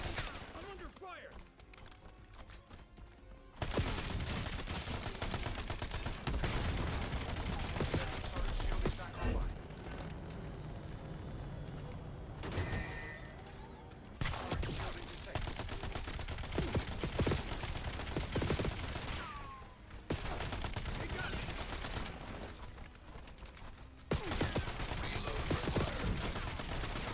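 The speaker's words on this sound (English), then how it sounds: "I'm under fire." Gunfire in the shooter game Call of Duty: Black Ops 7 comes as dense bursts of automatic fire, loud and sustained with short gaps, set against battle noise and voices.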